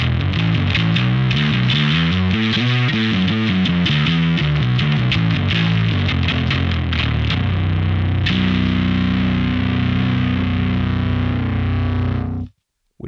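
Bass guitar played through a Neural DSP Quad Cortex with four combined captures and added distortion, loud and heavy: a choppy riff that gives way to a long sustained chord, cut off sharply at the end.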